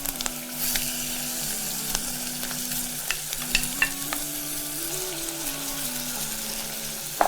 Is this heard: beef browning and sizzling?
yes